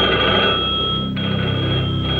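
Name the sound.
telephone ringing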